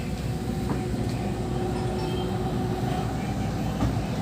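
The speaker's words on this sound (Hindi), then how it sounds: "दिल्ली मेट्रो की यात्रा।" Steady rumble and hum inside a moving Delhi Metro train, with a continuous low drone and faint rattles, a voice murmuring faintly in the background.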